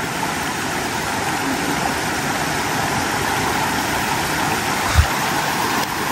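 Cold stream water splashes and rushes steadily while someone washes their face outdoors in Beladhunga, Nepal. The broad, even water noise runs throughout, with one brief thump near the end and no voices.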